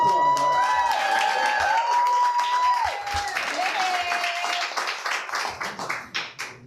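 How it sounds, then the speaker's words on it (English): Crowd applause for a performer being introduced at a community gathering, with claps and some cheering mixed under a sustained whistling tone and background noise, the clapping thinning out toward the end. "Give her a round of applause."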